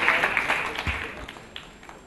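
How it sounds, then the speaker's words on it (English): A room of colleagues and guests at a meeting gives a brief round of applause that starts strong and fades away within about two seconds. "I think that we should have a round of applause to show our gratitude to"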